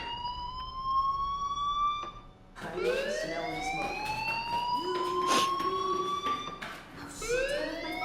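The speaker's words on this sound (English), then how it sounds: "do you hear that fire alarm? That means you should be outside." An electronic alarm in the video game Life Is Strange wails with repeated rising sweeping tones and steady high beeps, fairly loud and continuous over a faint background, with no talking.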